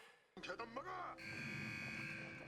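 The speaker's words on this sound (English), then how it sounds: "Oh, now we got the alarm going." An alarm blaring in a Squid Game Season 2 episode, a sustained electronic buzz-like tone that starts partway through and holds steady, with voices over it at first.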